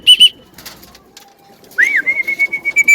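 Racing pigeons cooing and whistling close by, with a few short calls at the start and then a rising call followed by a steady series of rhythmic pulsing coos.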